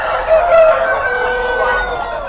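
Laying-stage breeder hens at a large Luzon poultry breeder farm cluck and squawk together in a dense, close chorus, with a few sharp higher calls rising above the steady flock noise.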